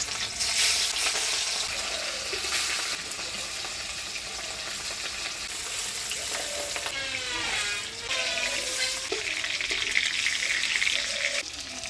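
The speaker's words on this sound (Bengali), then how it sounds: "তেল গরম হয়ে গেছে, মাছগুলো ভেজে নিব।" Small chela fish fry in hot oil in a pan over a clay stove, giving a continuous crackling sizzle with occasional scraping stirs and brief squeaky metallic sounds.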